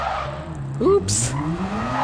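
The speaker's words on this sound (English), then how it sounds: "I was trying to be a little bit too fancy and I spun out there" A car in Gran Turismo 7 skids and spins out, a sharp tire squeal rising over a steady engine drone, with a brief burst of hiss as it slides.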